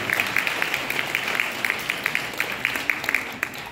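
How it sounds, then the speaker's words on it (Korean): Wedding guests applaud during the ring exchange, a steady patter of clapping with distinct individual claps standing out, moderately near. "다시 한번 뜨거운 박수"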